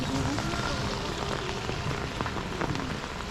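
Heavy rain patters steadily beside a pond in Gobindapur village, a dense, even hiss of drops on water and ground with occasional closer splashes.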